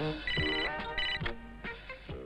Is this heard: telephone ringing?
yes